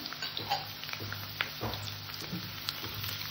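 Chopped onion sizzles quietly in hot oil in a pan after fried potato, with soft scraping stirs and small clicks over a low, steady frying hiss, no talk.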